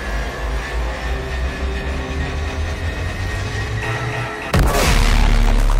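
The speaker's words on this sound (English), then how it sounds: "Go missiles loose!" Missile launch in the video game Call of Duty: Infinite Warfare, a steady low rumbling roar that ends in a sudden heavy blast and louder broadband roar, with no speech.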